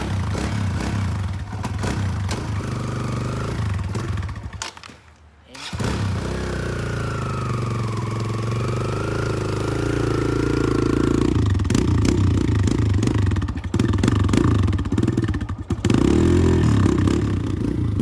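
A dirt bike engine idles loudly right after a kickstart, with a rough, steady putter that briefly dips, then climbs into revs and settles back, close by and running throughout.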